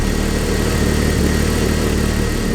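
A Jeep Cherokee XJ engine runs at a steady idle with the heater on, a dense, even rumble heard up close with no voices.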